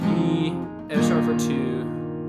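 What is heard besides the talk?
No everyday noise stands out behind the speech.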